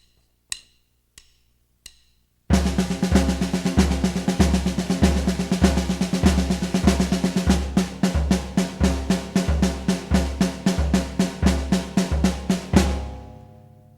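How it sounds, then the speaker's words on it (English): Snare drum played in a steady five-note pattern, with the other hand tapping on the leg: three soft taps alone, then a loud, close, dense run of even snare strokes that stops abruptly. "I'm going to set up the 5 on the snare drum, and then I'm going to take my left hand and pull it out and play it on my leg"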